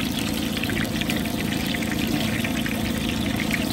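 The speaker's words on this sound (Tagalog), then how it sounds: "Ay sagit-git ng mantika." Cooking oil sizzling and crackling in a pan, a steady, dense hiss with fine popping spatter throughout, fairly close and continuous with no talk.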